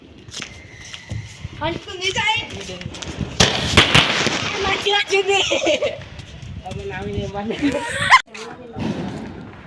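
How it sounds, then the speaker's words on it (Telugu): Firecrackers burst during a Diwali celebration on a building terrace, sharp loud cracks and sputtering pops scattered among lively nearby chatter, with a sudden strong bang near the end. "పైన బిల్డింగ్ వచ్చి ఇలా క్రాకర్స్ కాల్చుకున్నాము కొద్దిసేపు"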